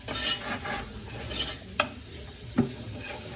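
A spoon stirs chillies into a tempered Sri Lankan lentil curry, soft scraping strokes over a gentle sizzle, with a few sharp clinks of the spoon against the pot, close by.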